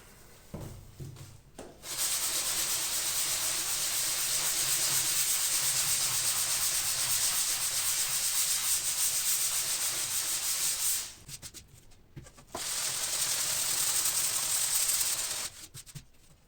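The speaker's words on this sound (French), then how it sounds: "donc là j'ai bien raboté tout le tour" Steady abrasive rasping as the edges of a wooden panel being prepared for oil painting are planed, running loud and continuous for long stretches with a brief pause near the end.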